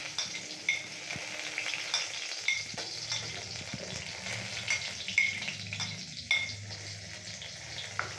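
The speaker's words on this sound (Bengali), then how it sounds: "মা কড়ায় তেল দিয়েছে, প্রথমে জিরে ফোড়ন দিচ্ছে" Cumin seeds sizzle in hot oil in a wok for hing aloo, a moderate crackling spatter with soft clinks and scrapes as the pan is handled, no talking.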